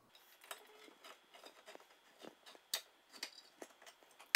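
A handheld can opener works around a can of green beans in a kitchen, giving a series of small metallic clicks and ratcheting ticks close by, ending with a sharper clatter.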